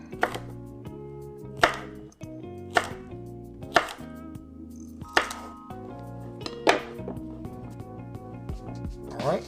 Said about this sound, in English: And cut it into bite-sized pieces.